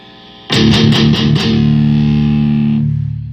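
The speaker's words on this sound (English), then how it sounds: "if you loosen up your noise suppressor" Digitech Death Metal distortion pedal with its noise suppressor loosened: a few sharp heavy chugged guitar hits, then one sustained distorted chord ringing out over a bed of steady hiss that lingers as the note decays.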